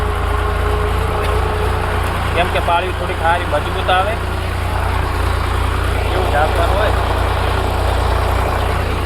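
A tractor engine runs steadily while ploughing a field, a continuous low drone with someone talking over it.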